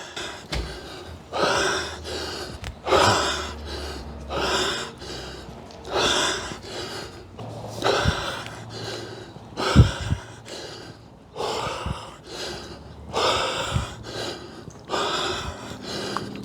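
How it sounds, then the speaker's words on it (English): A 66-year-old man breathes heavily after steep hill rucking intervals, with loud, close, rhythmic gasping inhales and exhales repeating every second or so throughout. "I'm still breathing very heavily for this last little stretch of 75 meters."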